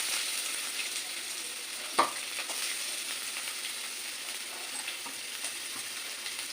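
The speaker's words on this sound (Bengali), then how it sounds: "আমি প্রথমে তেলের মধ্যে পেঁয়াজ দেবো" Chopped onion fries in hot oil in a pan as the base for a cauliflower Manchurian gravy, a steady close sizzle broken by one sharp utensil clack early on, with no talking.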